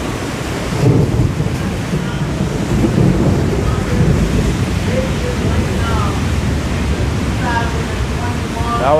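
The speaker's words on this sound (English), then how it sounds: "That was a nice thunder." Thunder rumbling low and continuous during a storm in New York City, a broad steady roar lasting throughout, heard over city ambience with voices talking in the background.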